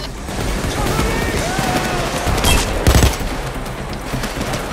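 Sniper fire during a heist mission in the co-op shooter Payday 2, with a couple of sharp, loud cracks standing out from a constant din of gunfire and game noise, while a voice talks briefly.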